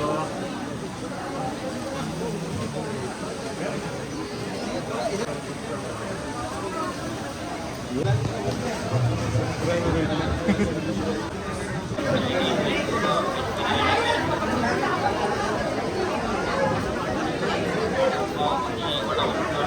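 Crowd of pilgrims packed on a single narrow lane up the hill to Ekvira temple in heavy rain, a steady dense murmur of many voices talking at once, swelling slightly partway through.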